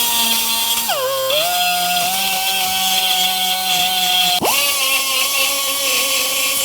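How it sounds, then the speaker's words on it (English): A power tool fitted with a cartridge roll spins up to a steady high whine while cleaning a metal surface by a rear strut mount on a 2005 Honda Civic, its pitch dropping under load, then briefly stopping and revving back up, loud and close. "So I'm going to take one of my cartridge rolls,"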